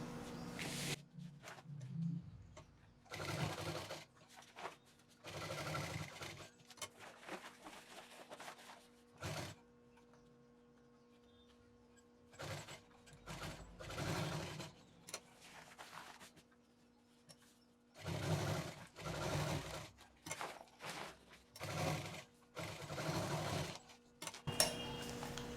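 A sewing machine stitches pieces of cloth for a bed runner in repeated whirring runs of a few seconds each, separated by quiet pauses, close and moderately loud with a steady low hum underneath.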